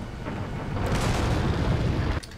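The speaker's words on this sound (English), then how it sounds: "I'm just gonna, just throw a grenade" A grenade blast in Resident Evil 4, a loud, broad rumbling boom that swells and holds for about two seconds before cutting off abruptly, with no talking.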